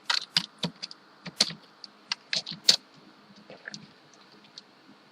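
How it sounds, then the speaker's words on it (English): Code typed on a computer keyboard while building a machine learning model, heard as irregular bursts of close, crisp keystrokes with short pauses between them and no talking. "So I could actually go ahead and type print ypred"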